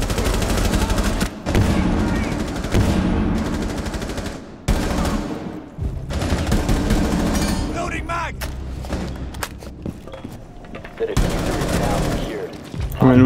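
Loud, close automatic gunfire bursts and booming shots in the shooter game Rainbow Six Siege, coming in dense volleys broken by brief gaps, with players talking over the action.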